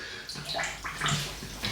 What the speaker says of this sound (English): going to give the brush a good old rinse here while it's here